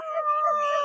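A howling coyote call in a cartoon song from Cowboys of Moo Mesa: one sustained, wavering howl, loud and close, lasting under a second.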